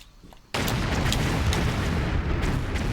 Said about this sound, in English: So more explosions